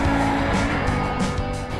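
Engine of a Mercedes luxury car running loudly, a steady droning hum with a continuous low rumble from inside or near the car, no voices.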